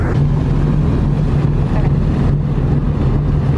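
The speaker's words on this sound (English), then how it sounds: "they're kicking the engines up" The cruise ship Noordam's engines rev up near Sitka, a loud, steady low rumble with a droning hum beneath rushing wind noise.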